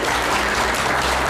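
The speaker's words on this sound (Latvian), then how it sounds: "kur aplausi?" Brief burst of loud, dense clapping from a crowd of relatives and friends at a Latvian ceremony, a steady close wash of many hands with a low hum beneath.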